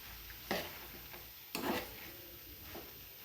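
Spiced usal, a sprouted bean curry, stirred in a pan: two distinct scraping sweeps of the spoon, with a quiet steady sizzle underneath, fairly close and soft.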